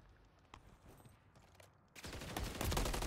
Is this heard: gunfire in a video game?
yes